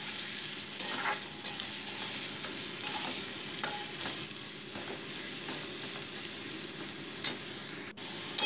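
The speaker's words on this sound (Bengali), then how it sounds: "সবজিগুলো তেলের উপর আমি ভেজে নিচ্ছি।" Cauliflower and mixed vegetables fry in mustard oil for a vegetable dal, giving a steady, close sizzle with repeated stirring scrapes throughout and no talking.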